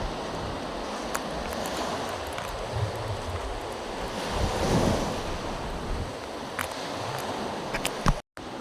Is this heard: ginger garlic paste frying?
no